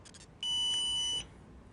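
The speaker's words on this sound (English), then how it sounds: "hold the mode button, M-O-D-E button, down until it beeps" A single sharp electronic beep lasting under a second, clear and close, after a brief faint chirp, from holding the mode button on a TST 507 tire sensor tool.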